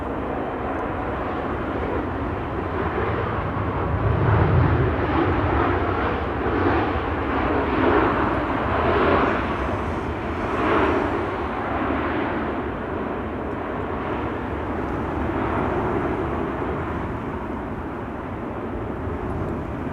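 A SunExpress airliner arriving at Amsterdam Schiphol gives a sustained engine roar that swells and eases over twenty seconds, fairly near and steady, with no talking.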